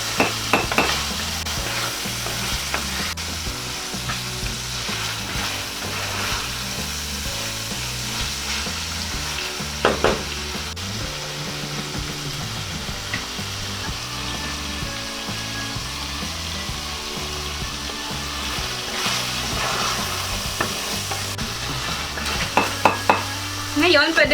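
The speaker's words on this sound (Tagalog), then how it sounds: "Haluin lang natin" Pork and green beans sizzle steadily in a pan as they are stirred, with occasional scrapes and clinks of a utensil against the metal, close and continuous with no talking.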